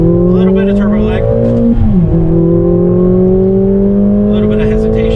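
A Mercedes-Benz GLA45 AMG pulls hard in second gear around 30 mph, its turbocharged engine note rising steadily at about 4,000 RPM with a slight dip mid-run, loud and close throughout.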